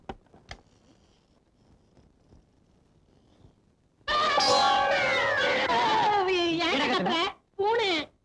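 A cat lets out long, loud, wailing meows up close inside a house, two drawn-out cries after a few quiet seconds with faint knocks.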